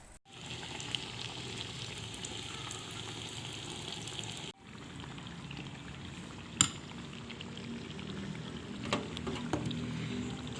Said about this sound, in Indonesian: ini siap untuk kita goreng